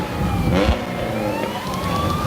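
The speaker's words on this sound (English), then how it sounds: "Another S10 pickup truck." A Chevrolet S10 pickup truck rolls past in a Christmas parade in Kingston, its engine revving briefly up close before a smooth rising drone, loud and near, with a faint siren-like tone mixed in.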